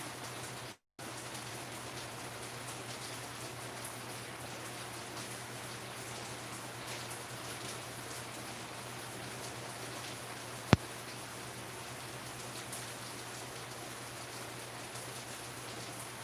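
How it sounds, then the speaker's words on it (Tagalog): Heavy rain, a steady, loud hiss of falling water that continues throughout, with a low constant hum underneath, a brief dropout near the start and one sharp click later on. "Lakas naman ng ulan."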